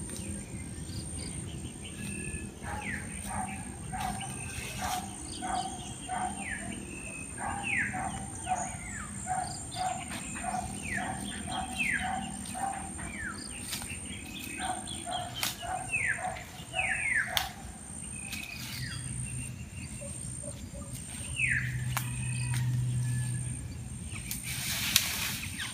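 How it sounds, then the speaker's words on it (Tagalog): Birds in trees on a Batangas farm call in a long series of repeated sweeping whistles and chirps, moderately near, over a steady background of insect buzz and low rumble. "Ang saya ng mga ibon. Ang sasaya ng mga ibon."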